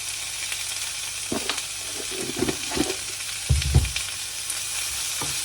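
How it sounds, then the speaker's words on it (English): Onions sautéing with salt in a pan for dosa chutney, a steady sizzle broken by several bursts of stirring and scraping. "Again, saute well."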